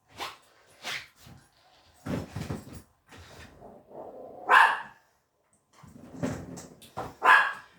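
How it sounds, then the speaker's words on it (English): Dog next door barking in short, sharp bursts, several separate barks and yips spread out with pauses between them, fairly close and moderately loud, with no one talking over them. "A dog barks, I can understand that, right?"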